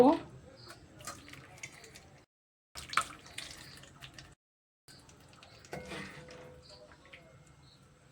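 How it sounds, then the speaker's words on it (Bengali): Water runs and splashes over freshly made chhena for nalen jaggery rasgolla, rinsed through a cloth in a perforated plate, in short bursts with brief silent gaps while someone talks over it. "জল দিয়ে ভালো করে ধুয়ে নিচ্ছি"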